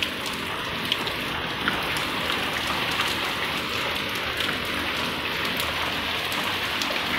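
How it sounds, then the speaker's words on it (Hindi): Heavy rain pours down steadily in Haldwani, a dense, even hiss of drops drumming on surfaces that stays constant and close throughout, with no voices. "ये देखिए फ्रेंड्स कितने तेज हो गई बारिश,"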